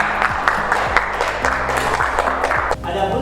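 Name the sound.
applause for a classmate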